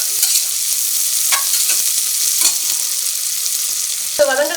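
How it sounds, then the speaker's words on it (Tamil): Two large onions sautéing with a little salt in a pan, a steady close hiss with scattered stirring scrapes and a sharper clatter near the end. "ஸோ நல்லா 2 பெரிய வெங்காயம் அளவுக்கு எடுத்துக்கிட்டு நல்லா போட்டு வதக்கிக்கோங்க."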